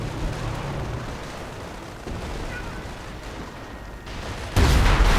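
A V1 rocket strikes in a World War II strategy video game, with a low rumbling blast under continuous battle noise that ends in a sudden loud, sustained roar.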